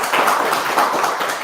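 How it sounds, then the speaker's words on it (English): A seated audience at a county controller candidate forum claps for the two candidates, a brief burst of dense, even applause from many hands at moderate volume. "We're going to give them a round of applause."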